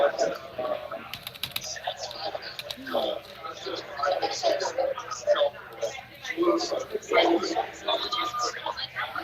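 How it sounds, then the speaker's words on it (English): Fast typing on a computer keyboard, a close, dense patter of key clicks running throughout, with a person talking over it. "I'm sure that people love to watch me type."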